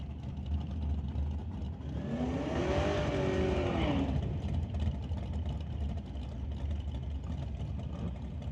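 A Pontiac Firebird makes a drag-strip pass in a sportsman bracket race, its engine roaring up and sweeping past mid-range, loudest around the middle before fading into steady background noise.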